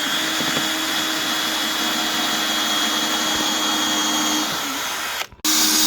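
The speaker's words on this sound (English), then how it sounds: "We marked the places to drill the holes." Steady, loud whine of a power drill boring holes into metal pieces for a welded work table, a continuous high-pitched drone that dips and stops briefly near the end before resuming.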